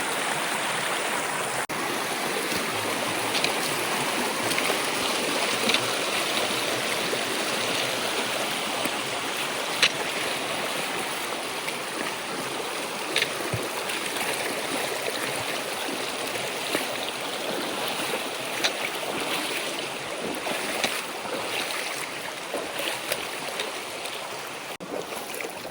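The Pack-a-Lot River rushes steadily after Hurricane Helene, a continuous broadband roar of flowing water with no voices.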